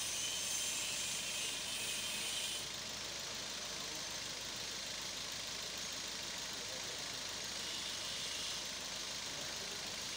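A Daihatsu Grand Max engine, one that stalls when hot, runs steadily through the whole stretch, a constant idle hum under a bright hiss that drops a little partway through, with no talking.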